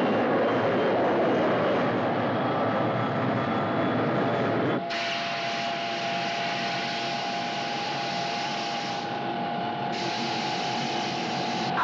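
Bomber aircraft engines roaring at full throttle in a film scene, a loud, steady drone that cuts abruptly partway through and shifts to a brighter, sustained roar with a steady tone, with no talk over it.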